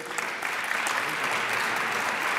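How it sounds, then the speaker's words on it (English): Audience applause fills a hall at an official congress closing ceremony, a steady, even wash of many hands clapping that carries on for a couple of seconds at moderate distance. "Let's just give her a hand of applause."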